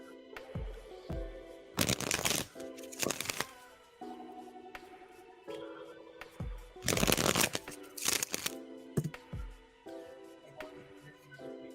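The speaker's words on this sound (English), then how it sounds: "Let's go ahead and shuffle" Tarot cards are shuffled in several quick riffling bursts separated by quieter pauses, close and fairly soft, with a faint musical background and no talking.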